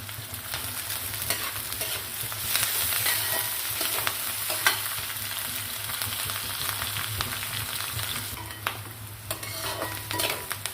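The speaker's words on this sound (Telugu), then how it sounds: "ఇది బాగా ఫ్రై అవ్వనిద్దాం." Salted onions frying in a pan, a steady sizzle and hiss broken by frequent scrapes and taps of a spoon stirring them, close up and with no voices.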